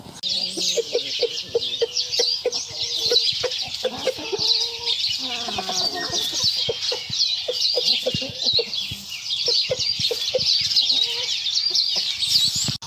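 Backyard chickens cluck and chatter continuously, several birds close by, over a constant high hiss of background noise, with no talk.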